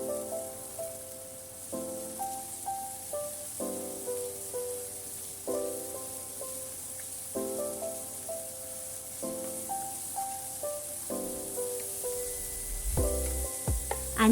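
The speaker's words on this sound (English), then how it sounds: "Stir fry." Pork stir-frying in hot oil in a pan for a broccoli, mushroom and tofu dish, a steady soft sizzle under a repeating background melody, with a louder stirring clatter near the end.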